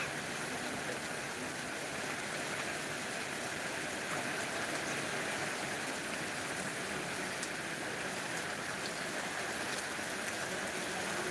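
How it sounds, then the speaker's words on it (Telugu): Steady, dense rain hisses evenly throughout, a constant wash of falling water with no pauses or voices. "ఈ వర్షం ఎందుకు పడుతుందో తెలుస్తలే"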